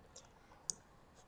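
Mouse clicks while modeling in Revit, a few faint, sparse single clicks against a quiet background, one sharper click in the middle.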